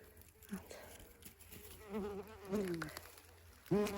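A wasp buzzes close by near a phone at a lakeside, its whining drone rising and falling in pitch as it hovers and lands, with soft background ambience and no talking.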